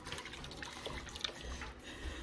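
A small whisk stirs soup in a pot, a soft continuous wet swishing and sloshing with faint clinks, steady and close, no voices.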